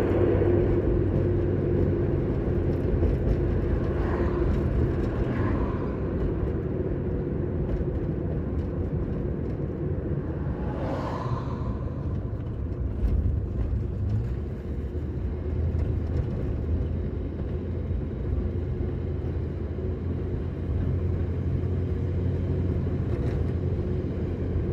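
A 1974 Dodge Dart engine, waking after five years of sitting and suffering a midpoint throttle bog, runs with a steady low rumble throughout, with a couple of faint brief swells and no speech over it.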